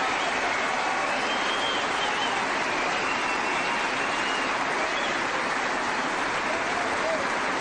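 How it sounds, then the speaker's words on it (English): Steady, dense applause from a tennis crowd after a women's doubles point, a continuous wash of clapping that holds at an even level throughout. "The break comes, the crowd applauds."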